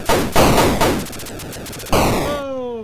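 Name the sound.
enemy fire in Atari video game Chopper Command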